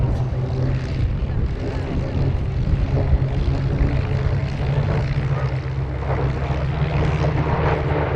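A P-47D Thunderbolt propeller fighter flies at Duxford, its piston engine giving a steady, loud droning roar that holds throughout without a break.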